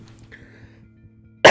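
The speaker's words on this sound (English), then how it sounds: "apologies for the coughing" One short, sharp cough bursts out loudly at the end after near silence, with a faint low hum and quiet game music beneath.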